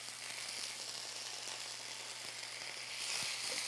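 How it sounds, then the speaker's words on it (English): Green beans sautéing in a lemon dressing in a pan, a steady soft sizzle with faint crackles and an occasional utensil tap, fairly quiet and without talk. "saute the green beans in the lemon dressing that we're making here"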